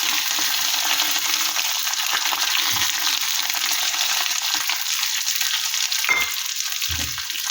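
Shallots, curry leaves and dried red chillies frying in a pan of oil for sambar, a continuous bright crackling sizzle, loud and close, with a few soft knocks of a spoon against the pan.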